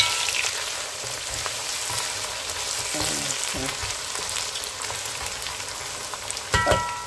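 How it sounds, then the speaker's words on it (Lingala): Onions frying in hot oil while cooking salted dried fish with mushrooms, a steady close sizzle and crackle running throughout, with a brief stir or clatter near the end. "ke matungulu na moto bandi kokalinga matungulu"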